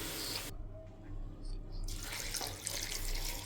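Water is poured into a pressure cooker holding vegetables and roasted moong dal, a steady rushing splash that runs loud and close, broken by a short pause.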